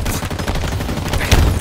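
Gunfire from the video game Halo Infinite, a dense, steady stream of shots with a heavier burst near the end, loud and up close with no talk.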